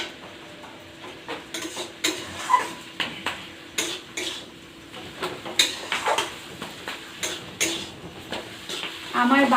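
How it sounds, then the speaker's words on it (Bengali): Spatula scraping and stirring red amaranth with lentil paste in a wok, a soft continuous rhythm of scrapes and light clinks with faint sizzling underneath, no talk. "এবার আমি নাড়তে থাকি"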